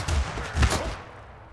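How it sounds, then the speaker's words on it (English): Burst of video-game gunfire as the Scout from Deep Rock Galactic shoots a boss in Totally Accurate Battle Simulator, two dense cracking volleys close together, fairly loud, with no talking. "the scout from Deep Rock Galactic is shooting the boss"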